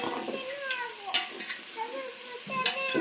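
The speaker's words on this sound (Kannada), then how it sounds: "ಈಗ ನೋಡ್ರಿ ಮಸ್ತ್ನೇ ಫ್ರೈ ರೀ ಎಲ್ಲ ಉಳ್ಳಾಗಡ್ಡಿ ಮೆಣಸಿನ್ಕಾಯಿ" Onions and green chillies frying in a pan with salt and turmeric, a steady sizzle with occasional utensil scrapes and clinks, partly covered by voices.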